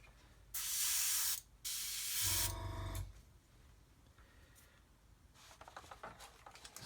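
An airbrush sprays paint while painting a model, with two close, loud hissing bursts separated by a brief pause, followed by quieter handling clicks and rustles.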